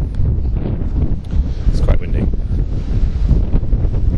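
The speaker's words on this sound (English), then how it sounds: "It's quite windy." Strong outdoor wind buffeting the microphone, a loud continuous low roar that rises and falls in gusts, with a few faint voice fragments mixed in.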